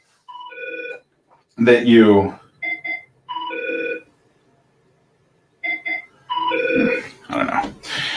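A desk phone rings in short repeated electronic trills, close and clear, with a person talking between and over the rings.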